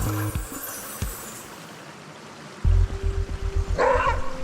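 A maned wolf barks a few times nearby, short low yaps with a rougher call near the end, over a steady outdoor background.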